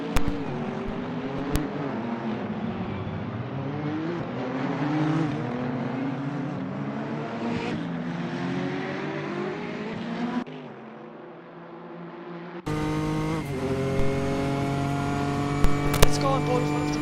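Race cars in the Assetto Corsa racing game scream past with rising and falling engine tones, one car locking up into turn one, loud and continuous with a brief dip and a sharp tonal shift near the end.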